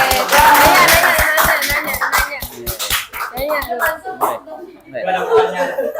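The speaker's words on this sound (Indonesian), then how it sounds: "Tepuk tangan dong." A school class of ninth graders claps in response to a request, a short run of rhythmic hand claps mixed with chatter and laughter, followed by people talking.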